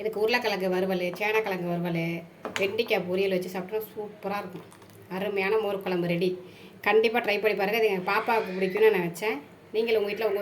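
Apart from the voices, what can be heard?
No everyday noise stands out behind the speech.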